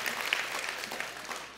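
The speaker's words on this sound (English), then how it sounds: "You can clap." A congregation claps at a church gathering, a brief burst of dense, even applause from many people that fades slightly toward the end, with no speech over it.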